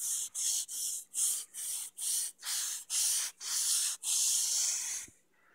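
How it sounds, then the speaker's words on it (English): Fine 600-grit sandpaper rubbing slowly over the silicone-coated surface of an EVA foam katana-style cosplay sword, a bright scratchy hiss in about ten even back-and-forth strokes with brief gaps, close and steady, ending in a longer pass. "take some very fine 600 grit sandpaper, and I'm going to very carefully buff out some of these areas"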